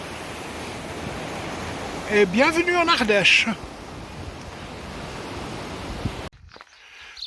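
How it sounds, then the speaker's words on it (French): Flowing water of the Allier river, a broad steady rushing wash heard while crossing it on foot, continuous under a brief spoken remark before cutting off near the end. "Je traverse maintenant l'Allier, magnifique rivière, et je quitte la Lozère ici."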